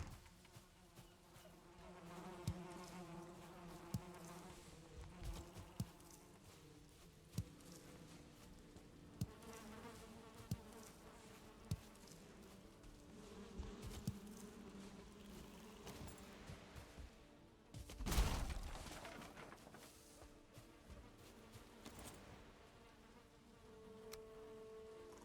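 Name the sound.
bees buzzing in a video game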